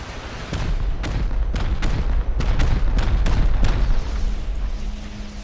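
In the video game Rust, a rapid series of about ten rockets fire and explode in heavy booming blasts at a fairly even rhythm, loud and close, with a low hum lingering at the end.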